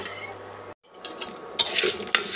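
A spoon scrapes and clinks against a pan as chana dal is dry-roasted for chutney, with a short silent break and then louder stirring rattles and a light sizzle.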